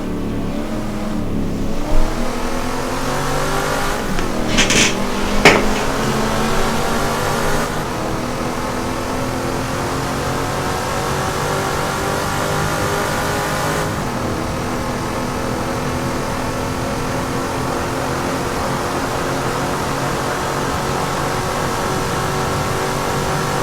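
Race car engines in Assetto Corsa at the 1971 IMSA Daytona race, a loud continuous high-revving drone with gear shifts and cars passing close early on, then steady engine roar down the back stretch with no talking.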